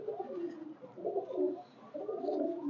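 Pigeons cooing steadily at close range, soft low throaty calls overlapping one another, with faint background noise.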